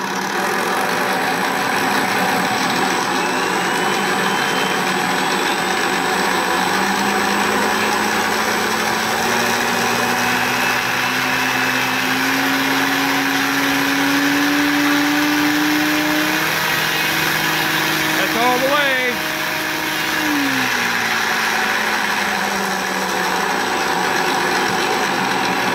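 A model Spitfire Mk IXc's onboard ESS Air sound system plays a piston engine note that climbs from idle into a rising rev, holds, then drops back toward idle; it is loud and close with no talking.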